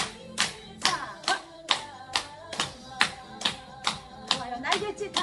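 A senior exercise class on Zoom, doing a trot-music stretching and strength routine, claps hands in a steady rhythm, roughly two crisp claps per second, close and clear with music or voices faintly underneath.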